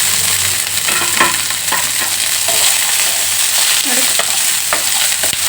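Chopped onions and garlic fry in oil for a hotel-style chutney, giving a loud continuous sizzle with repeated stirring scrapes and clatters, and a brief spoken word.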